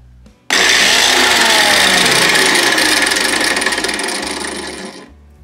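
A small electric motor on a speed controller with two controllers wired in series spins up abruptly to full speed, whining loudly and steadily for about four and a half seconds before cutting off, with no talk.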